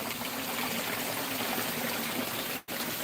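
Water runs steadily through a backyard creek, a dense close rushing flow that fills the clip with one brief dropout near the end, no voices.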